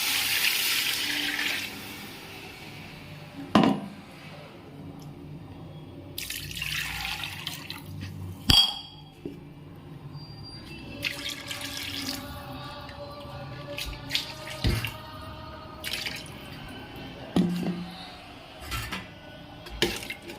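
Water poured into a cooking pot for chicken biryani, four glasses measured for two of rice, splashing and trickling in several bursts with clinks of the pot over a quiet kitchen background.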